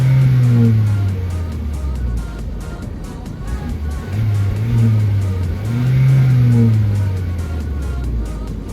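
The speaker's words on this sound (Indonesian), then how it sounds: "memang terasa dari mesinnya sendiri juga lebih rumbly gitu ya. Dan kalau kita gas-gas, dia lebih responsif gitu" Chery Omoda 5 GT turbo engine revving under throttle blips, a rumbly low drone rising and falling in repeated swells, heard from inside the car.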